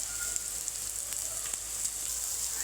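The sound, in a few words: cluster beans with green chilli and spices sautéing in pan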